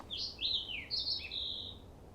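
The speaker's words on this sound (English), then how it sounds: "Hear the birds." Birdsong in the video game Life is Strange: a few high, sweeping chirps and whistled phrases in quick succession, fairly faint over a quiet ambient background.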